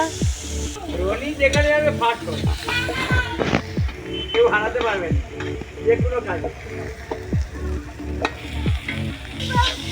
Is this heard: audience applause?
no